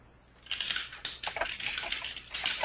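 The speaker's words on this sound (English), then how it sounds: "I can hear somebody's typing." Someone types on a computer keyboard during an online webinar, a quick run of close clicking keystrokes after a brief quiet start.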